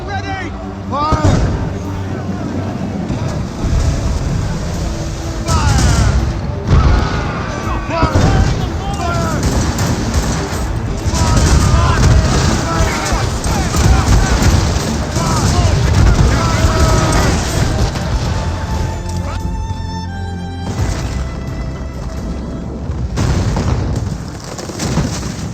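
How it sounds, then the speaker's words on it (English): Booming cannon blasts from a naval battle in Assassin's Creed Rogue, repeated amid continuous loud music, shouting voices and effects. "Cannon ready! Fire!"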